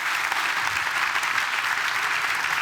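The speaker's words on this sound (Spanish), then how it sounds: "un aplauso para él, por favor" Sustained applause from a conference audience, a full even roar of clapping hands at steady moderate loudness with no speech over it.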